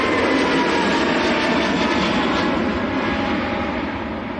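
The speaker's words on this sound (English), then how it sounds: "Pegasus to Istanbul, A321neo." A Pegasus Airbus A321neo jet departs Manchester Airport bound for Istanbul, its loud, steady broadband engine roar filling the air without pause and easing slightly toward the end.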